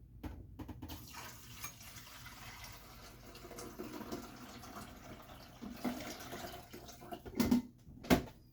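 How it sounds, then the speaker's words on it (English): Water pours from a kettle or tap into a coffee maker over freshly ground coffee, a soft, steady trickle that swells into a few louder splashing gurgles near the end, close by and fairly quiet. "I poured the water in"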